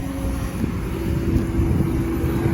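Kobelco SK200 excavator digging a pond on a farm in Buriram, Thailand, a loud steady diesel engine drone with a low rumble and wind buffeting, no talk.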